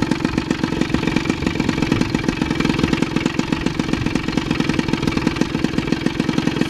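A tuned E8 engine on a Ciao moped idles steadily on a hot day, a loud, close, rapid and even putter that stays constant throughout with no voices.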